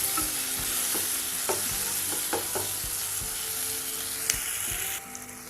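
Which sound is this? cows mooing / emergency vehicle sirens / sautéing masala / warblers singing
sautéing masala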